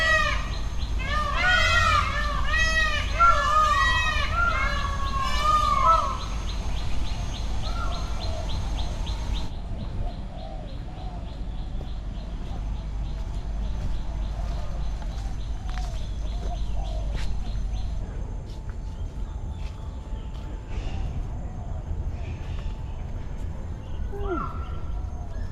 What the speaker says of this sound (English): the birds are kind of everywhere, just not bothered by you much at all